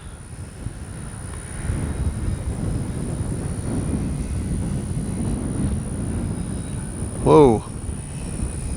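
A Dynam Grand Cruise RC airplane comes in to land, its motor a steady drone with wind rumble. A person briefly exclaims near the end.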